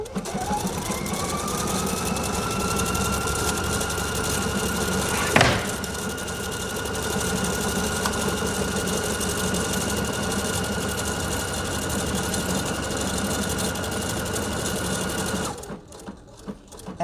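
A Pfaff Icon sewing machine stitches steadily for about fifteen seconds, a close, continuous motor whir with one brief click partway through, then stops abruptly.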